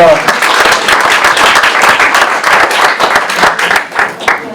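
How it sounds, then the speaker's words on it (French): A retirement home audience at a New Year's greetings ceremony in Malestroit applauds, with steady, fairly loud, close-up clapping throughout and a few voices murmuring underneath before it thins out at the end. "On peut l'applaudir."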